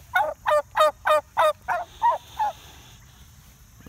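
A four-month-old turkey raised for Thanksgiving, a close series of about eight rapid, evenly spaced harsh bursts that fade over a few seconds.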